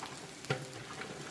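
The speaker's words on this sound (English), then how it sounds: "while those sausages are frying up," Chicken sausages frying in a pan at a riverside campsite give a faint, steady sizzle with a small pop partway through, heard alone.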